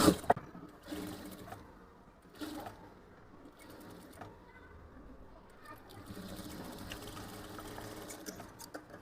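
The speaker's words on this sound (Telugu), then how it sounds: "ఇక్కడ నుంచి కంటిన్యూగా స్టిచ్ వేసుకోవాలి." A sewing machine stitching a blouse neckline, running in a quiet, steady whir with a few brief starts and stops, faint and close.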